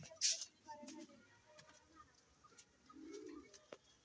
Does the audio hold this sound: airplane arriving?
no